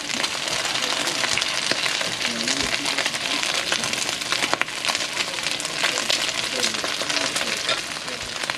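Caramelized vegetables sizzle on top of Philly cheesesteak meat, a steady, close hiss of frying with scattered crackles and pops that continues evenly throughout.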